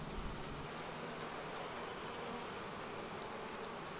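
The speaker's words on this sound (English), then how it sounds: "These are the wax bees. They're drawing out comb." Honey bees drone in a steady, dense hum from an opened hive where wax bees are drawing out comb, with a few individual bees passing briefly closer over the constant buzz.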